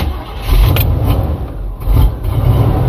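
An old car nicknamed Suzy with a poorly running rebuilt carburetor cranks and struggles to start, a loud low rumble surging and sagging in uneven pulses, close by, with no voices.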